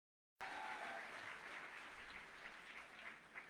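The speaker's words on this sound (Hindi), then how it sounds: "इनके लिए जोरदार ताली बजा दीजिए एक बार सर" An audience at a direct selling industry event bursts into strong applause after a short silence, a loud, dense, steady patter of many hands clapping close by that holds for several seconds with little letup.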